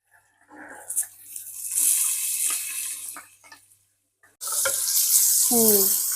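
Crushed ginger, garlic and shallots dropped into hot oil with bay leaf, cloves, cinnamon and cardamom for a biryani: bursts of sizzling frying with clinks and stirring, broken by a short pause before a louder sizzle resumes.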